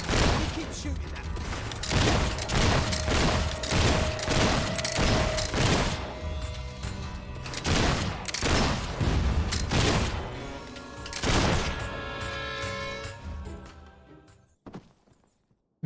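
Gunfire in the video game Fable 3: a run of loud, sharp shots and heavy booms in irregular bursts over a steady tone. The shots thin out and fade to near silence at the end.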